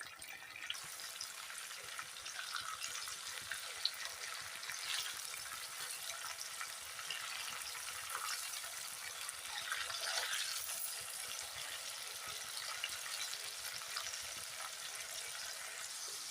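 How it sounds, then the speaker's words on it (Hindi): Beef koftas frying with onions in a pan, a steady dense hiss and crackle of hot oil running throughout with no talk. "4-5 मिनट फ्राई कर लेंगे।"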